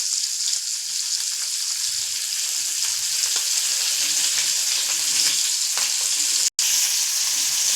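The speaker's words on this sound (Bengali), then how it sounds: "এখানে মাছটা ভাজা হচ্ছে" Fish fries in a wok with a loud, even sizzle of hot oil close by, with faint scattered crackles under the constant hiss and a brief dropout near the end.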